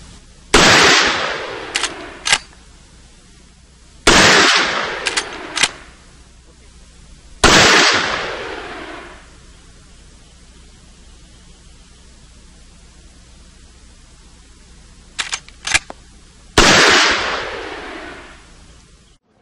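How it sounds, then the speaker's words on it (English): A .450 Magnum Marlin rifle fires four loud, sharp shots spaced several seconds apart, each ringing out with a long echoing decay, with quieter metallic clicks of the action between some shots. "450 Magnum Marlin"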